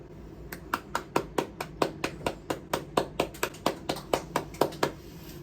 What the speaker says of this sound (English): I had to cue for you to clap along with me.